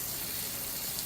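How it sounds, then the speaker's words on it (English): Tomatoes rinsed under a steady stream of running tap water, a continuous close splashing wash with no pauses. "First off, you want to wash your tomatoes really,"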